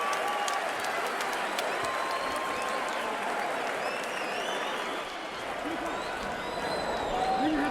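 A boxing arena crowd at a heavyweight bout applauds and cheers in a sustained wash of clapping and shouts, with a commentator's voice running over the noise throughout.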